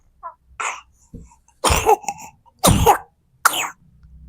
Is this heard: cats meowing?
no